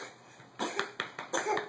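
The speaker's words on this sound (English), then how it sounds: "Makes me cough." A child coughs several times in quick succession, short soft bursts close by, fairly quiet against a faint steady background hum.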